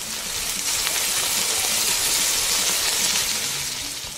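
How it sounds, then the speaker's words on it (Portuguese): Food frying in a cooking pan in a Cape Verde kitchen gives a steady, loud, broad hiss that runs unbroken throughout with no talk over it. "Tá ouvindo o barulho da panela, né?"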